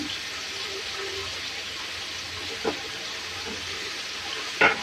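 Bottle gourd greens hit a hot frying pan with a steady, even sizzle and hiss that holds throughout, broken by a couple of brief clicks near the middle and end.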